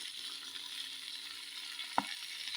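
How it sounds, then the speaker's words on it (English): Spinach and garlic frying in a pan, a quiet, steady sizzle with a single brief clatter partway through. "There goes my spinach and little bit of garlic"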